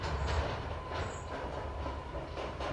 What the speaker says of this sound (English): You have to excuse the noise of the tractor.